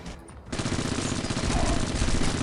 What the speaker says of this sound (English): I'm going to use the, there we are, the dual nano pistols because they are fantastic